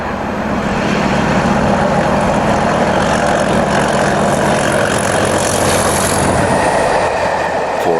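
British diesel locomotive 432 heading south at Farrington Junction, a loud, steady roar of engine and rolling stock with rattling wheels and faint squeals, passing close for the whole stretch.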